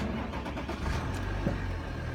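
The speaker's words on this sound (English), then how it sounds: "if I switch the engine on" An Audi A8L diesel engine is switched on with a low fuel level in the tank, a steady low mechanical hum running throughout with a faint brief catch partway in, heard fairly close with no talk.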